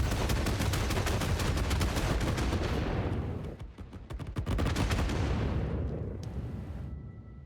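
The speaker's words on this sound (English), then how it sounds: "I'm throwing bombs at things, all right?" Rapid, loud chains of explosions rumble and crackle from bombs detonating in the Satisfactory video game, dense at first, then thinning into scattered blasts and fading.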